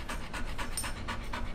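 A small dog pants rapidly and close up, a run of quick rhythmic breaths during a chiropractic adjustment, with no talk over it.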